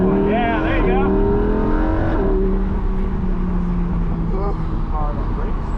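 Lamborghini Huracan Performante accelerating hard on a track, its engine note climbing loudly through rising revs with a shift, while a driving instructor talks over it.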